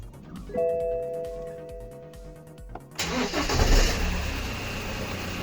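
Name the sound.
BMW diesel engine first start after oil filter change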